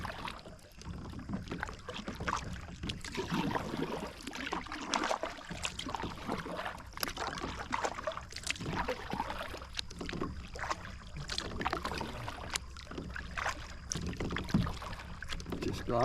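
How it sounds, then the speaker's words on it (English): A Liquid Logic KO12 sit-on-top kayak glides through a Pennsylvania bog, with soft, continuous paddle strokes and gentle water swishes and drips close by, quiet and steady with light wind. "I'm in a Liquid Logic KO12, sit on top kayak."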